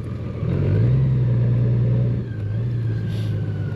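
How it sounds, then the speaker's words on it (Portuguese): Motorcycle backing up on its electric reverse gear, a steady low motor hum that rises, holds and then dips slightly, close by with no talking. "A vantagem que tem a marcha atrás, ó, não se faz esforço nenhum. Basta carregar aqui no botão que ela chega-nos a moto para trás."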